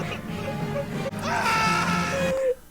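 A cartoon character's scream from the animated film The Mitchells vs. the Machines, a loud, strained wail that rises and then breaks off abruptly after a couple of seconds, under busy film dialogue and music.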